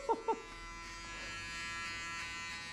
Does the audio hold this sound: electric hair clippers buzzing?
yes